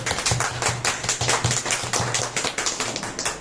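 A group gathered for a religious katha claps hands in a brisk, regular rhythm, close and steady throughout, with a low hum running underneath.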